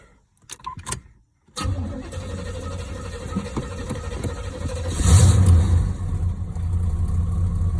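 A 1981 Chevrolet Monte Carlo engine cranks briefly after a few clicks, catches, and settles into a steady idle close by, swelling slightly midway.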